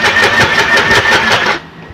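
A sewing machine runs at high speed, stitching cotton cloth with a loud, fast, evenly repeating mechanical chatter that stops abruptly after about a second and a half.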